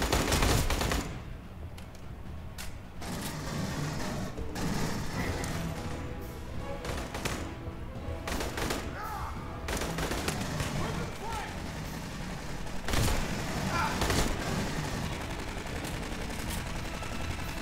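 Turret gunfire in the Aliens Colonial Marines video game, bursts of shots and heavy impacts rattling on and off with game noise, while a person talks over parts of it.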